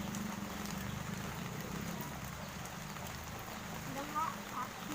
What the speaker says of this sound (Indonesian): Waduh, hujannya turun gede bro.